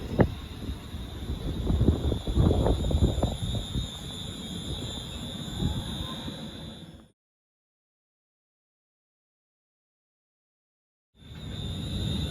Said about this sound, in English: Departing now is a 1458 West Midlands Railway service from Walsall to Wolverhampton